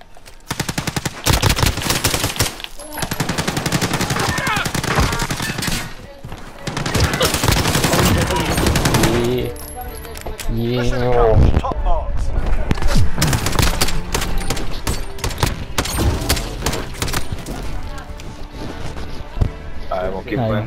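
Automatic weapons rattle in rapid, dense bursts during a 3v3 gun fight video game, loud and nearly continuous across the clip, with players' voices talking over the shooting in places.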